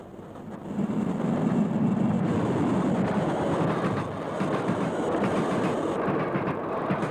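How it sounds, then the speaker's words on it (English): Passenger train passing on rails, a broad rumbling roar with rhythmic clickety-clack of wheels over joints, fairly close and sustained throughout with no talking. "Watch the trains passing"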